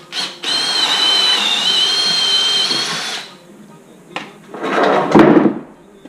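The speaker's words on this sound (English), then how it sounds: "Drill a hole in the middle towards the top somewhere so you can put the screw through it" A power drill whines steadily for about three seconds as it bores a hole into a wooden board for a skate kicker ramp, loud and close, followed by a few knocks and handling noises.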